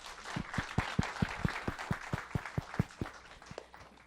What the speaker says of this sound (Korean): 여기 나오신 셰프님들께 큰 박수 부탁드립니다.